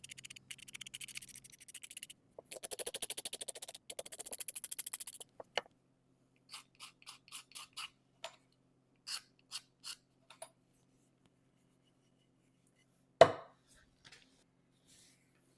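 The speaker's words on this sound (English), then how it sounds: "And to remove that finish, I'm just going to use this little razor blade" A small razor blade scrapes the thick lacquer finish off a rosewood Stanley hand plane tote in a quiet room. Bursts of rapid, fine scratchy strokes are followed by sparse, isolated scrapes and a single sharper knock.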